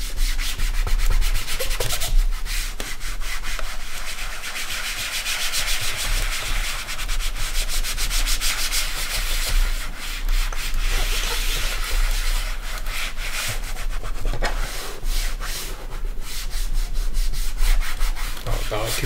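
A laptop keyboard is scrubbed clean in steady rough back-and-forth strokes, loud and close, continuing without pause and with no talk over it.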